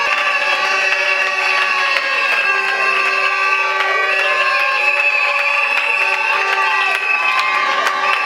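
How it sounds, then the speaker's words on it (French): University thesis-defence audience cheering, a sustained loud crowd roar of overlapping shouts and high voices with little clear clapping, steady throughout. "nous vous remercions l'acclamation du public"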